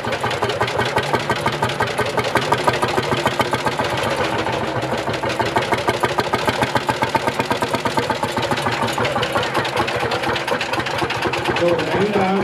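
A Lanz Bulldog hot-bulb tractor engine runs at a tractor meeting, a loud rhythmic thumping pulse that stays steady and close throughout, with voices audible over it.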